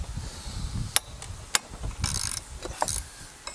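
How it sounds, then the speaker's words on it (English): Wrench and ratchet working on a head bolt of a Briggs & Stratton 190cc 8.75 engine on a Toro TimeMaster mower, giving close metallic clicks, a couple of sharp snaps and ratcheting rasps, with no voice. "Okay, I broke it loose."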